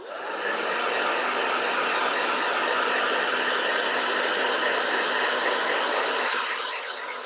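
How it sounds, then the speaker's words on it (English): A hair dryer drying a watercolor painting runs continuously, a loud steady whooshing hum close by, holding level for several seconds before easing off slightly. "All right, blow dryer."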